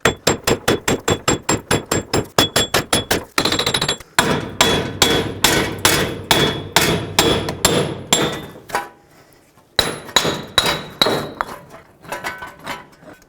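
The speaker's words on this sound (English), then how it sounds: "Now take your hammer and hammer the wheel bearing out of the knuckle." Hammer blows knocking a front wheel bearing out of an aluminum steering knuckle on a 2005-2009 Chevy Equinox: sharp, ringing metallic strikes in quick steady series, pausing briefly, then resuming more sparsely and fading toward the end.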